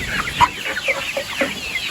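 Chicks and grown chickens on a farm, up close, giving soft repeated clucks and short bright peeps in scattered overlapping bursts over a steady background hiss.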